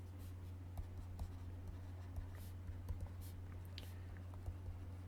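Quiet handwriting during a math lecture, faint scratchy pen strokes and small taps in short bursts against a low steady hum.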